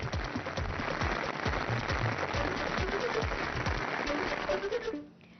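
Heavy morning rain, arriving with thunder, pours down in a dense, steady hiss of drops striking surfaces, loud and continuous before fading out at the very end.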